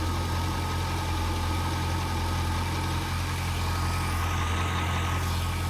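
A car engine idles steadily with a squeaky pulley bearing on the AC belt, heard up close as a continuous hum with a persistent high, thin whine running through it.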